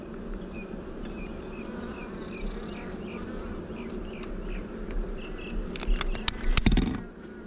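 Dense, steady buzzing of a honey bee swarm fills the whole stretch, close and continuous, with a few sharp clicks and knocks near the end as a queen is moved into a marking tool.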